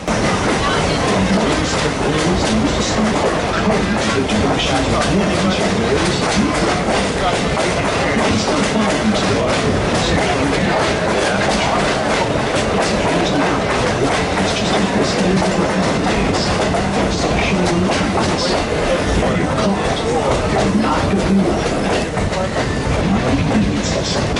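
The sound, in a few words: steam locomotive pulling train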